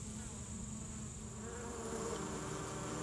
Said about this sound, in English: There's a lot of bees on it.